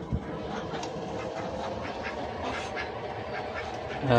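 Steady dense quacking from a flock of Peking ducks, continuous and fairly loud throughout, with a brief louder call near the end.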